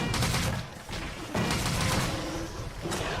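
Bowgun pellet shots in Monster Hunter 3 Ultimate, dense booming bursts of in-game gunfire with thuds, loud and continuous over the short stretch.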